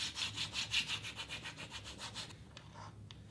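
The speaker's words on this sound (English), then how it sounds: "Just place the scraper tool right over the center of your repair and rub back and forth." A scraper tool rubbed back and forth over a wood touch-up repair gives a steady run of rhythmic scraping strokes, close and fairly soft, and ends with a couple of lighter taps.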